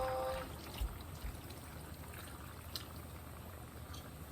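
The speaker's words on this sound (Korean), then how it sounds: "물 들어갑니다. 한 컵." A cup of water poured into a hot cooking pan gives a soft, brief trickle and hiss near the start, then settles into low, faint simmering and bubbling that runs to the end.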